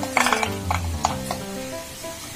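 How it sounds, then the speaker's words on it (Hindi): Cashews tipped in with garlic for a butter masala paneer gravy, giving a short rattling clatter of nuts against a container, then a steady low hum with faint clinks. "काजू डालते हैं इसमें"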